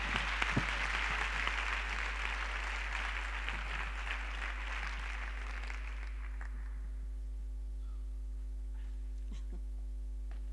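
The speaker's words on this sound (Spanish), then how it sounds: "Un aplauso también para él." Audience applause at a public library congress award ceremony, a broad steady wash of clapping over mains hum that fades out after about seven seconds, leaving near silence.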